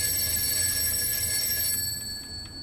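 A telephone rings steadily in a Seoul Station Exit 8 clone video game, a continuous bright metallic bell tone that dominates and fades slightly toward the end, with no talk.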